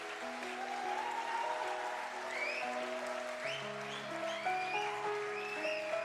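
Church congregation applauding and cheering for God, a sustained spread of clapping and scattered whoops while sustained organ or keyboard chords play underneath, moderately loud and steady throughout.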